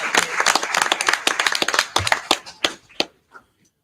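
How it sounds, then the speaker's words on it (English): Board meeting audience clapping after a demonstration: a close burst of distinct individual claps that thins out and stops within about three seconds, leaving near silence. "Let's give them applause."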